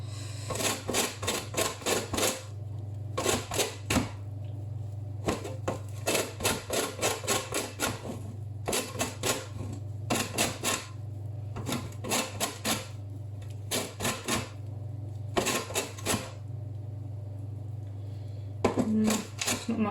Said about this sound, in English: So you just grate the zest off the orange